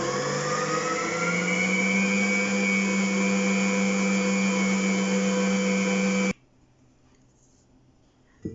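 An electric mixer beating eggs with sugar, vanilla sugar and almonds whirs loud and steady with a rising pitch for several seconds, then cuts off abruptly into near silence.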